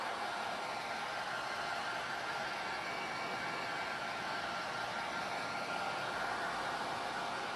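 A hair dryer blows to dry ink on a t-shirt, giving a steady, close, loud airy whoosh that holds unchanged throughout with no talk.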